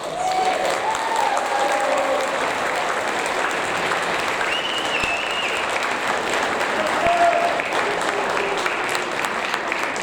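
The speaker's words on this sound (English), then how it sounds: "Let's give them a big round of applause." Audience applause at an eighth grade awards ceremony for students on stage: steady, sustained clapping from a seated crowd lasting ten seconds, even and fairly close, with a few voices faintly calling out over it.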